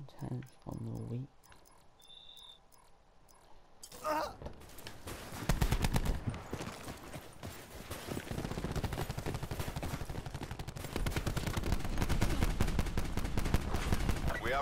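Rapid automatic fire from the Titan gun in Black Ops 4, starting after a quieter opening of game menu sounds and a voice, then dense, continuous bursts that grow louder and keep going to the end.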